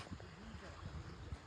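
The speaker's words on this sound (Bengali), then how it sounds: "এই যে শব্দ শুনছস, পানির শব্দ।" Faint, steady rush of flowing water outdoors in Chittagong, heard as a low continuous wash with soft murmuring voices underneath throughout.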